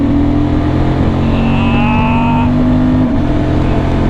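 A 2023 Honda Transalp 750 motorcycle held at full throttle, its engine droning loud and steady with a rising, straining pitch before easing off near the end, accompanied by constant riding wind.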